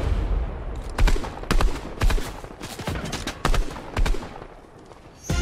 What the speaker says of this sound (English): Why are you shooting at me, bro?